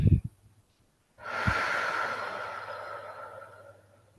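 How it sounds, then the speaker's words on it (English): A person taking a deep, slow breath during a relaxation session, a long airy inhale or exhale heard close after a short snort and a brief quiet gap, with no talk. "deep, deep breaths"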